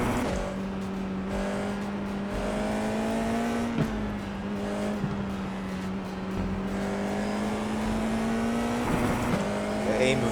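Race car engine in iRacing at a Norwegian circuit drones steadily at a constant level, pitch climbing and dipping through gear changes, with faint tire noise along the way.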